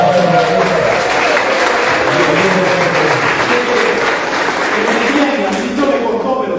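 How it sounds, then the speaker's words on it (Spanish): An audience at an animation event applauds in a sustained wash of clapping that runs the full length, loud and fairly close, with voices mixed in underneath. "Otro aplauso."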